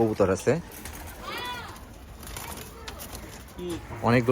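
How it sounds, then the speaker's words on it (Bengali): Pigeons coo in a small pigeon loft, a few rounded, wavering calls at the start and end with softer cooing and ambient loft noise in between. "তো আপনাদের কবুতরের থরটা দেখালাম।"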